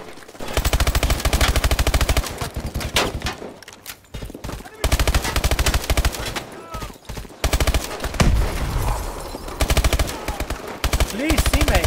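Rapid automatic gunfire in the Call of Duty Advanced Warfare campaign, loud sustained bursts with brief pauses between them, a player's voice talking over parts of it.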